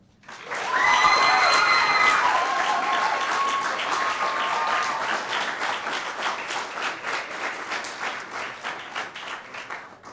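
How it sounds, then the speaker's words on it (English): A Year 12 graduation dinner crowd breaks into loud applause with a few cheering voices early on; the clapping stays thick for several seconds, then thins into scattered, individual claps as it gradually fades. "the biggest round of applause goes to Kelly Scholl for basically coordinating tonight"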